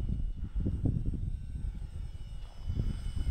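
A Micro Draco light airplane flies over a hay field, a faint, distant engine hum with a wavering, pulsing low drone throughout the short span, no voices.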